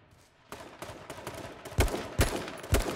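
Bursts of gunfire in the battle royale game H1Z1 King of the Kill, several loud sharp shots and short volleys cracking out in quick succession, some closer and heavier than others.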